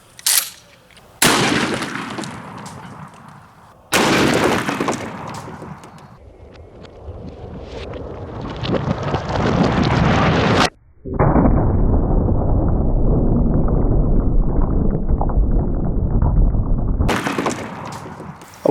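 Several sharp, loud shotgun blasts firing Remington 1 ounce slugs into cinder blocks outdoors, each report followed by a rumbling tail, with wind noise between shots.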